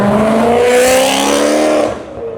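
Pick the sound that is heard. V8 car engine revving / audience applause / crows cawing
V8 car engine revving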